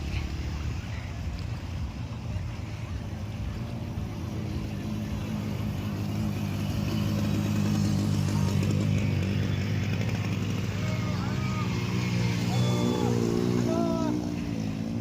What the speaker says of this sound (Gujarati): જો એક ટ્રેક્ટર આવે છે અને એની અંદર પણ ગીત ચાલુ છે જો